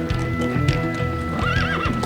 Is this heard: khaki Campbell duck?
no